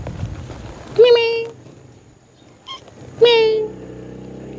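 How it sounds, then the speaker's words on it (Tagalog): A domestic cat meows twice, close and clear, at an outdoor farmyard spot with ducks, the two calls spaced about two seconds apart over faint background noise and low rumble. "Kasama ang pusa rito."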